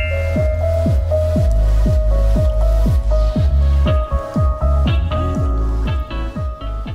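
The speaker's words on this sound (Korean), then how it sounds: "아까 그 배추에 절였던 이 미지근한 물을 배추 위에다 붓겠습니다" Lukewarm salting water is poured over salted cabbage for temple-style white kimchi, making a steady, close series of splashing drips and trickles with no talking.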